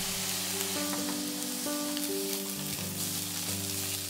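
Pork and egg fried rice sizzles loudly and continuously in a hot pan as salt, pepper and sake go in. Steady frying noise sits under sustained background music.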